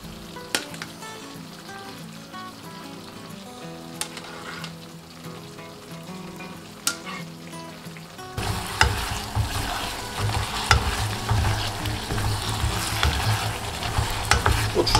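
Rice cakes drop into a sizzling tteokbokki sauce; after quiet stirring and clinks, a louder, steady frying sizzle with bubbling and spoon stirring takes over, close and without talk.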